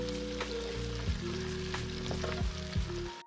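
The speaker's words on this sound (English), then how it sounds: "Give that a stir." Suya fried rice ingredients sizzling in a pan with butter, habanero pepper and seasoning, a steady close frying crackle broken by several spoon scrapes and stirring knocks, no voices.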